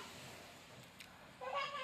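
A single short cat meow rises near the end, after a stretch of quiet background hiss.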